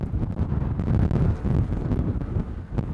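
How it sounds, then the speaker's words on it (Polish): Strong wind on the Transfăgărășan mountain road in Romania buffets the microphone in a steady low rumble, gusting unevenly without any voices. "że zaczął wiać wiatr"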